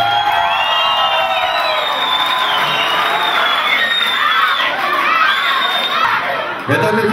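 Loud, continuous crowd noise at an Armenian MMA event, with shouting, whoops and cheering for an introduced fighter rising in waves and applause underneath, sustained throughout before a brief dip near the end.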